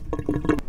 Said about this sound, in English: you can hear the air sucking through.